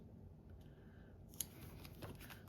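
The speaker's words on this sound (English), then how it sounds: "I'm going to have to cut a bit of this flower off." Scissors cut a paper flower in a papercraft setting, giving a faint, brief, close snip with some soft paper rustle against a quiet background.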